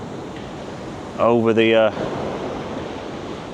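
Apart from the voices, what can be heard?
high tide waves crashing over Blackpool sea wall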